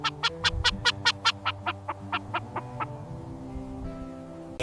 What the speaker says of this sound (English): It's a rooster. Rooster. He tells everyone the sun is up.